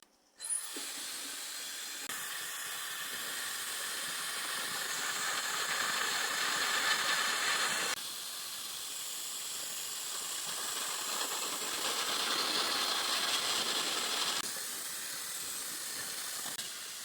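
A Bomidi hair dryer blows with a strong, steady airy hiss for several seconds, its intensity shifting slightly between settings, with no talk over it.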